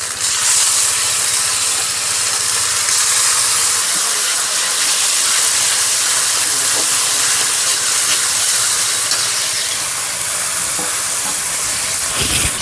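Onion paste and ginger-garlic paste sizzling steadily in hot oil, a loud continuous hiss with faint stirring scrapes and no talk.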